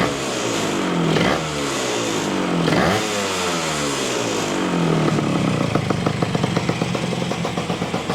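A 1973 Yamaha ATMX 125 motorcycle engine runs close and loud, idling and then revving up and down in repeated rising and falling sweeps, ending in a rough, pulsing idle.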